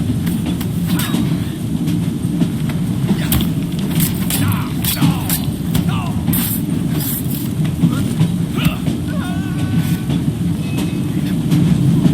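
A steam-era train rumbles and clatters in Assassin's Creed Syndicate, a continuous heavy low roar with scattered metallic clanks and hisses, loud and close, running steadily for the whole stretch.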